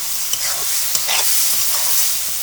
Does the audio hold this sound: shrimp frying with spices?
yes